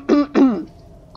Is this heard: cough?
yes